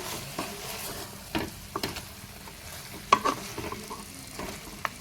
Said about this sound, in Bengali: আমি আর একবার চিকেনটাকে নেড়ে দিলাম